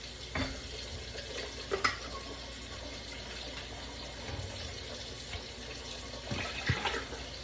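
Tap water running into a jar to rinse out leftover tomato pasta sauce in a home kitchen, a steady close splashing stream with a few louder gurgles and clinks of the glass, no talking.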